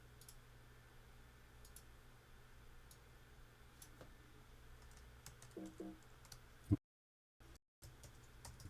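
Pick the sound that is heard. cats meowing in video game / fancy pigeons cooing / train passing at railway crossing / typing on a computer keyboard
typing on a computer keyboard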